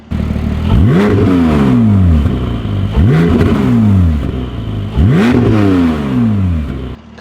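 Three loud revs from a Porsche 718 Spyder with a Milltek aftermarket exhaust, each sharp rise dropping back to idle, close up with a raspy, aggressive tone.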